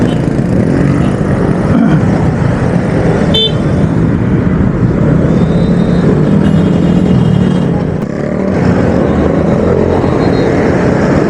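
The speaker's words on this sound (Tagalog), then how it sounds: "Wow, traffic." Dense road traffic heard from a Vespa Sprint scooter on a rainy Friday night, with a steady rumble of engines and road noise, a brief horn toot, and passing vehicles close by throughout.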